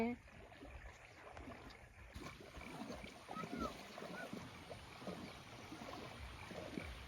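A boat is pushed through the water of Lake Kyoga in Uganda, with soft, close sloshing and lapping sounds, low and fairly quiet, over a faint background.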